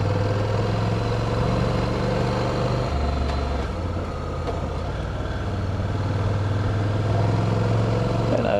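A Honda CTX motorcycle with dual clutch transmission rides along, its engine a steady, loud low drone mixed with wind rush, the pitch shifting slightly partway through as if changing gear.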